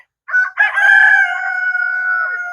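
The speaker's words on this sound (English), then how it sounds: "the roosters are making their noise in the background" A rooster crows once, a long drawn-out call with a short lead-in, fairly close and loud, with no talking.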